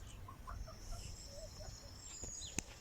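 Chickens cluck softly around feeders made from old boots, with short scattered calls over a steady outdoor hiss, a rooster among them, and one sharp knock near the end.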